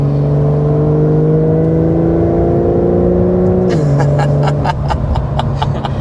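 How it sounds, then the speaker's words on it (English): A Porsche 911 Carrera 4S engine drones steadily at speed, then drops in pitch on a quick paddle-shift gear change, followed by a string of sharp crackling pops from the sport exhaust. "It's absolutely insane how fast you can blast off upshifts and downshifts with this transmission."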